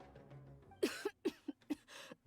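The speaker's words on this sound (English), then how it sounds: "Oh, more cough." A character in the video game Genshin Impact lets out a series of about five short, sharp coughs in quick succession, close and clear over a faint background.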